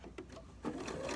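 A sewing machine stitches a cloth napkin from folded to unfolded edge, giving a short run of quiet mechanical chatter with a few soft clicks, then a slightly louder steady whir close by.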